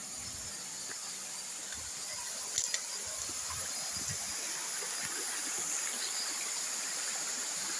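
A mountain river flows steadily in the Chicamán highlands of Quiché, a soft continuous hiss of moving water that stays fairly faint and even, with no talking.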